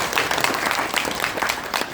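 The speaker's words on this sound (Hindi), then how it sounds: "ताली बजा दो, बातचीत शुरू करें" A seminar audience claps together, producing a steady, dense patter of applause that holds evenly for about two seconds.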